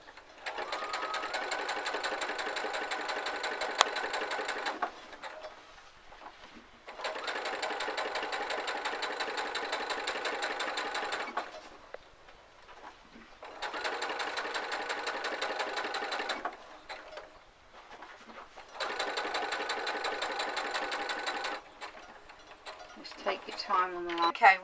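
A sewing machine stitches fabric for a glasses case in four long, even whirring runs separated by short pauses, close and clear, with some faint handling noise at the end.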